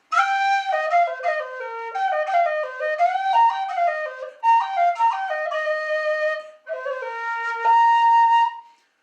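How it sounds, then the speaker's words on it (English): A tin whistle in A plays a lively tune alone, bright, clear notes in quick ornamented runs with short pauses between phrases. "Very nice whistle"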